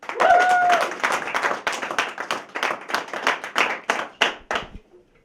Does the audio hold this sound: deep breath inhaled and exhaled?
no